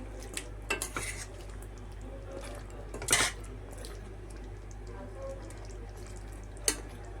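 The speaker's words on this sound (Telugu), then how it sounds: "కొబ్బరి పాలు వేసి బాగా ఇలా మిక్స్ చేసుకోవాలి" Coconut milk being stirred into curry in a pot, with scattered metallic scrapes and clinks of a spoon against the pot over a steady low hum, one louder clatter in the middle.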